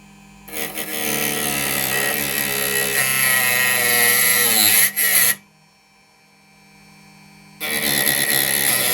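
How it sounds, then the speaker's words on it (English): A rotary tool fitted with a cutting disc slices through model railway track with a loud, high, grinding whine. The whine cuts out for a couple of seconds, then starts again. "Just got a cutting disc in here, and I just need to go through where I've made these two marks."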